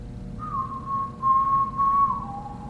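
A person whistling a single sustained pitch that holds steady, then dips slightly lower near the end, faint and close against a quiet low hum, with no talk.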